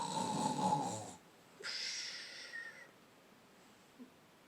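A voice imitates a bear snoring in a cave during a storybook reading, with two drawn-out snores: a loud rumbling inhale followed by a higher wheezy exhale, close and alone.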